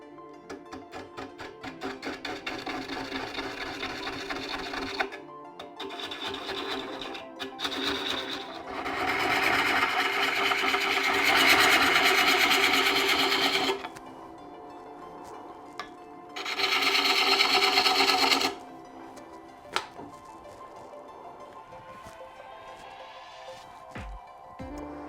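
A lathe turns a mimosa wood bowl blank while a gouge cuts a tenon, producing loud rasping, scraping bursts that start and stop repeatedly over a motor hum, with quieter gaps between cuts.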